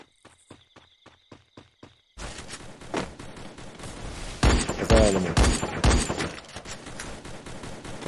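Gunfire in the mobile battle game Free Fire erupts after a few quiet rhythmic ticks, becoming a loud, sustained spray of shots with louder cracks toward the middle, with no speech.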